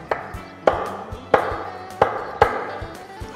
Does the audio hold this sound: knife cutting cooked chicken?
yes